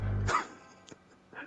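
A dog in the Minecraft video game gives one sharp, close bark, then a couple of fainter yips follow in a short, quiet moment.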